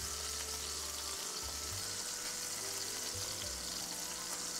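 Beef sizzling and frying with onions in a steel pan, a steady close hiss running throughout with low stirring and clatter underneath.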